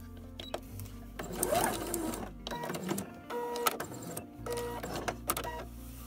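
A sewing machine stitches a zippered pillow cover in close bursts of rapid mechanical whirring, with short pauses and clicks between runs.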